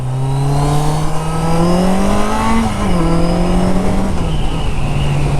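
A 1982 Yamaha Seca XJ650 motorcycle engine drones steadily close by, its pitch climbing as it revs up, briefly dropping at a gear change, then holding again.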